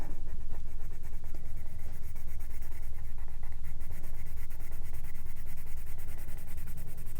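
Steady scratchy rubbing of a colored pencil on paper, close and continuous with quick back-and-forth strokes.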